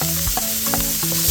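Mixed vegetables and onions sizzling in a frying pan for shrimp fried rice, a steady close hiss with low thumps and scrapes as they are stirred, no voices.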